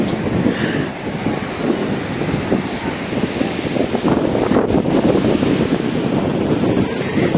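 Sea waves roll and break steadily at Digha beach while strong wind buffets the microphone, a loud continuous wash of surf with no pauses and no speech.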